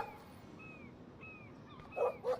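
A dog in the video game Life Is Strange gives a couple of short, sharp barks near the end, after thin whimpering tones over a low game ambience.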